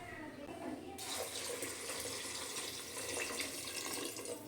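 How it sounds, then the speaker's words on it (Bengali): Water pours steadily into a pot of vegetarian khichuri, a continuous splashing gush that starts suddenly and keeps going. "এবার আমি এর মধ্যে দিয়ে দেব জল।"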